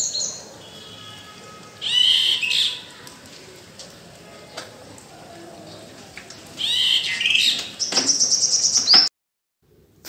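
A bird calls from a tree near Dehradun, Uttarakhand, in two loud bursts of bright, repeated chirping notes, separated by a quieter stretch of soft outdoor background.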